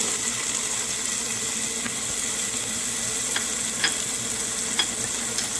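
Diced onion sizzling in a soup pot with rendered bacon on a stovetop, a steady close crackle and hiss with a few sharp pops and light stirring scrapes.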